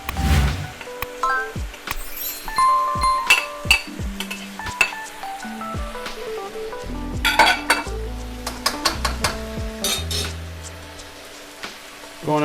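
Rice for shrimp fried rice is tossed and stirred in a wok, with repeated metal clanks and scrapes of a spatula against the pan over a soft sizzle, loud and close, in an irregular rhythm.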